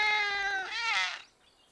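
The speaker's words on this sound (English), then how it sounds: "Oh, it's a baby cat." A baby cat meows in a long, high, wavering cry that rises and then trails off, close and fairly loud, in a cartoon setting with no talk over it.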